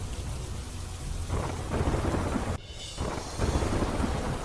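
Heavy rain pouring steadily in dense broadband hiss near the port of Rupen Bandar in Dwarka, with low rumbling like thunder and surges in intensity, continuous and without speech.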